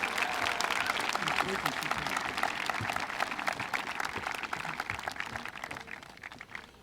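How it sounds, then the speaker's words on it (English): Sustained applause from a large audience at a high school senior presentation, steady clapping that gradually thins and fades toward the end. "A round of applause, please, for all of our students."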